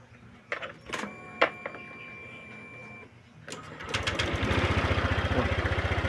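A Honda Click 150 scooter with hard-starting trouble cranks with a few clicks and whirs, then its small engine catches and settles into a steady, close, fairly loud idle with a fast regular pulse.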